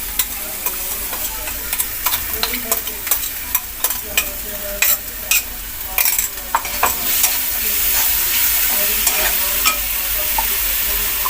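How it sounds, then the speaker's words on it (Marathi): Potato filling for masala dosa sautés in oil in a pan, a steady close sizzle and frying hiss with repeated scraping and clicking of a spatula stirring throughout. "हे चांगलं परतून घ्यायचं."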